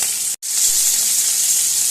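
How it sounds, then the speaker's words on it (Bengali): Sea fish frying in hot oil, a loud, even, continuous sizzle heard close up, with one very brief drop to silence near the start. "তো বন্ধুরা, একই প্রসেসে বাকি মাছগুলো ভেজে নিলাম।"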